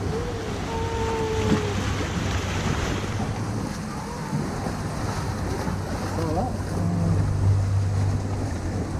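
Water rushes and splashes around a spinning amusement park boat ride, a steady churning wash with wind noise while riders talk and laugh over it.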